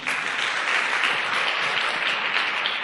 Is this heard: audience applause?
yes